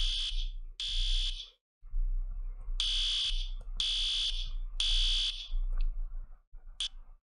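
Fire alarm sounding inside a house in the Roblox game Bloxburg, with loud repeated electronic beeping bursts in an irregular pattern of long and short blasts, standing out clearly with no talk over it.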